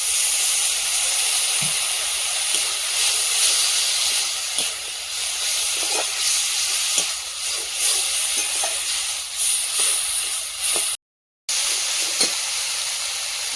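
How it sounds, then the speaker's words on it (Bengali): Spice paste sizzling and frying in a pan as salt, turmeric powder and a little water go in, a constant close hiss with faint stirring scrapes and small pops throughout, no talk over it. "লবণ দিয়ে দেবো, হলুদ গুঁড়ো, একটু জল দিয়ে দেবো।"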